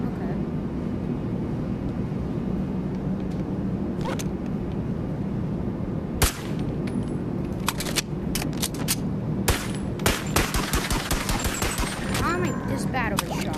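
Gunfire in a VR video game, a few sharp isolated shots that build into rapid clustered bursts over a steady low rumble.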